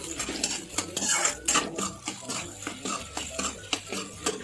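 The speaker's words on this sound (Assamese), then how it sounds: "এতিয়া ভালদৰে লৰাম।" A spatula stirs an egg and soybean mixture in a frying pan, making close, repeated metallic scrapes and clinks in an uneven rhythm over a faint sizzle, with no talking.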